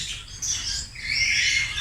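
Lory parrots at Avilon Zoo give a few harsh, high squawks in quick succession, fairly close and loud against a quiet background.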